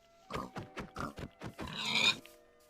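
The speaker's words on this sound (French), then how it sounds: "Il y a un cochon là-bas" A Minecraft pig grunts and oinks in a quick series of short snorts, about seven close bursts, ending in a longer squealing grunt.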